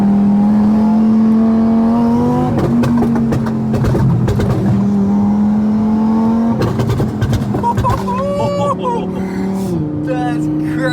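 A 1200-horsepower twin-turbo Audi R8 engine revs hard and loud, its tone climbing and falling through repeated bursts with sharp crackles between, while people talk excitedly over it.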